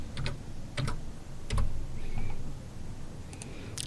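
A computer keyboard is typed on in a few sparse, light clicks spread across a quiet room, with a short cluster of keystrokes at the start, a couple in the middle and a couple at the end.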